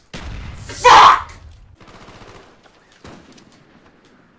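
Gunfire from the video game Black Ops bursts loudly around the one-second mark as a short, dense volley, then fades into quieter game sounds and lingering noise.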